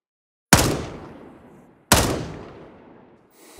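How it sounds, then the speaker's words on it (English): Two loud, close single gunshots in Gray Zone Warfare, each with a long echoing decay and spaced over a second apart, then the start of a third. "I think that one guy's still getting shot at"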